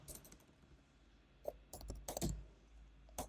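Computer keyboard typing in scattered bursts of clicks and clacks while code is written, fairly quiet with pauses between the keystroke clusters.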